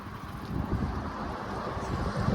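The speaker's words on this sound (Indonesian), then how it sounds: "anginnya lagi gede banget, jadi mungkin soundnya agak kurang jernih atau kurang jelas" Strong winter wind in a rural Japanese village buffets the microphone, making a steady, loud, low rumbling roar that fills the whole stretch with no voices.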